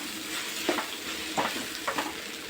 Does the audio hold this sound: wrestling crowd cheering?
no